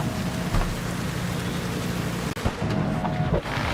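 Steady rain falling outdoors in a video game, a loud continuous hiss with faint low hum and a brief dropout near the middle.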